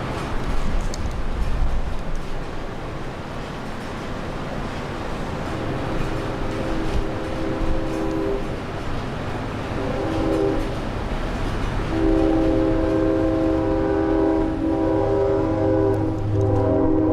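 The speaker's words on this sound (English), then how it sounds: "You can never escape the trains." A train rumbles past close by, its horn sounding in long tonal blasts that stop and start over the steady roar of the cars.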